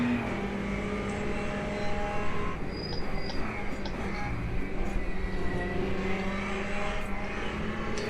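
Race cars running together in Le Mans Ultimate, a steady mix of engine drone and tonal whine at middle distance, holding continuously with no talk over it.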